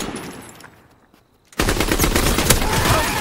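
Sustained machine gun fire in Call of Duty multiplayer erupts loudly after a quiet, fading lead-in, continuing as dense, rapid bursts to the end.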